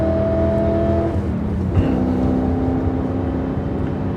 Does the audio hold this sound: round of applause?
no